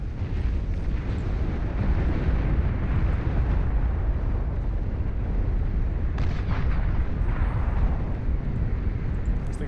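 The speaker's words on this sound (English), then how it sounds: "That's the Armada super weapon, the Iron Sky. Firing down onto the domes." Super weapon fire from the Armada Iron Sky in the real-time strategy game Beyond All Reason, heard as a dense, steady roar of rumbling blasts and booms hitting domes, continuous and loud throughout without speech.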